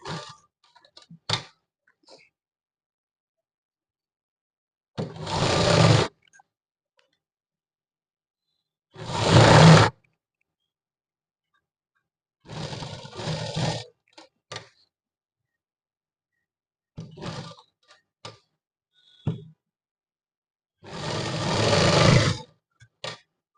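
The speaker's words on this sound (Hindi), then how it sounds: "जिस तरीके से मैं सिलाई लगा रहा हूँ बिल्कुल आपको भी इसी तरीके से लगानी है।" A sewing machine stitching a chain pocket into a shalwar runs in several separate loud bursts of rapid mechanical whirring, separated by quiet pauses and a few small clicks, close up and without talk.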